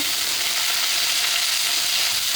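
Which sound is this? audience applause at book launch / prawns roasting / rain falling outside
prawns roasting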